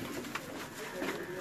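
Pigeons coo softly outdoors over a steady background hiss, with a couple of slightly louder coos standing out in a brief stretch.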